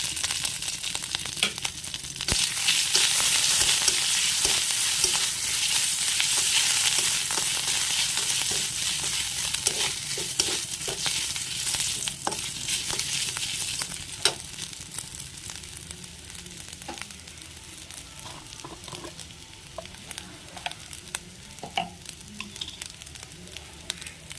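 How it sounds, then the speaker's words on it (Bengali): Ginger paste sizzles loudly in hot oil with cumin seeds in a wok while a spoon stirs and scrapes. The hiss is steady, with frequent clicks of the spoon, and fades slightly over time. "এবার দিয়ে দিচ্ছি আদা বাটা"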